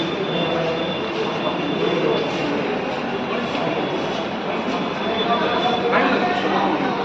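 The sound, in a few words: train passing on railway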